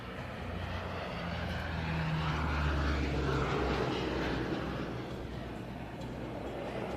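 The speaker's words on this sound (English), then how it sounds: "here comes the Hercules again for a topside pass" A Lockheed C-130 Hercules sweeps past on a topside pass at an airshow, its propeller engines droning low and swelling louder at mid-pass before easing away, with faint talk underneath.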